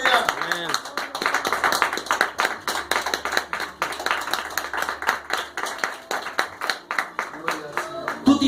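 Church congregation clapping together, a dense run of hand claps filling the whole stretch, with a voice talking over the applause.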